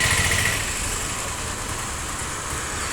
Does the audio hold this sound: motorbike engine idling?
yes